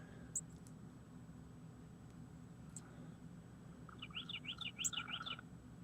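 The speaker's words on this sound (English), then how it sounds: "Oh, the birds want us to be happy." Small birds chirp outdoors, a couple of isolated high tweets early followed by a quick run of rapid repeated chirps near the end, all faint over a steady low background hum.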